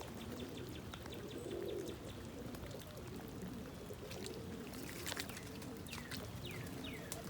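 Soft, low pigeon coos repeat in a loft on a rainy morning, with a steady hiss of rain beneath and a few faint chirps later.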